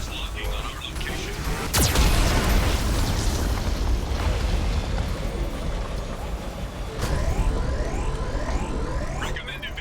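Heavy booming blasts from a Geth cannon in the video game Mass Effect 2, with a sharp burst near the start and another later over a constant roaring rumble, loud and close, while a synthetic voice speaks over it.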